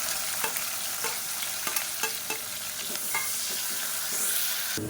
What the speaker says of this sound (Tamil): இப்போ நல்லா பொரிய ஆரம்பிக்கவும் மீடியம் சைஸாக பெரிய வெங்காயம் நீளமாக நறுக்கிறத சேர்த்துக்கலாம்.